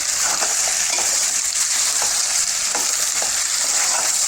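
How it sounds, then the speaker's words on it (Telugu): Chunks of taro root in a curry fry in a pan with a steady, close hiss, broken every half second or so by scraping stirs as everything is turned over. No one speaks. "మొత్తం ఇలా వేసేసి ఒక్కసారి అన్నీ తిప్పేద్దాం"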